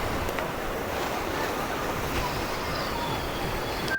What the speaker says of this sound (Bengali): জলের এখন কত স্রোত মানে আসছে একবারে ঢেউ